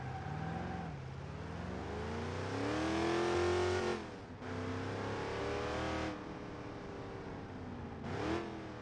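TRX Venom car engine in a video game mod, a loud droning engine note rising and falling through several rev cycles with brief gear-change dips, steady and close throughout.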